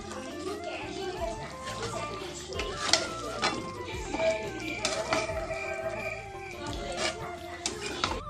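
Chicken with coriander paste being stirred in a pan, a spoon scraping and knocking against the metal in irregular bursts under a faint sizzle, with occasional clinks and sounds from the room around it.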